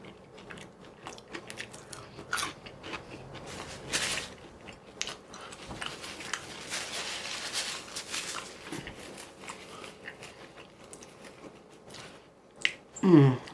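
Someone bites into and chews hot, juicy, crunchy marinated chicken, with scattered close crunches and soft squishy chewing sounds, quiet between bites and a louder crunch near the end.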